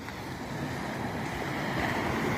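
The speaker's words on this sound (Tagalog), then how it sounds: "lumalakas yung alon pagka gano'n" Sea waves wash onto a beach under a strong seasonal amihan wind, a steady broad roar of surf and wind noise, continuous and fairly close, without voices.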